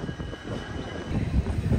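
A train hauled by three diesel locomotives rolls through monsoon rain with a steady, loud rumble of wheels and carriages, a faint squeal riding on top and no talk.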